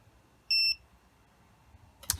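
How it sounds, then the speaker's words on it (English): A VIFLY Finder V2 self-powered drone buzzer gives one loud, piercing electronic beep lasting about a quarter second, followed by quiet and then a brief burst of close rustling handling noise. "it will beep twice every 4 seconds for 2 hours"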